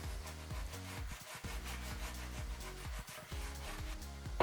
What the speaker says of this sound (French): avec mon éponge à gratter, ça part quand même plutôt bien.